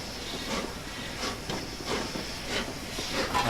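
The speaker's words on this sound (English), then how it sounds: "Let's just add the blower a little bit." Steady hiss of the blower on the Flying Scotsman steam locomotive in Train Simulator, heard on the Bedford to Brighton route. A constant moderate rush of steam is joined by faint rhythmic rail clatter, with no voices.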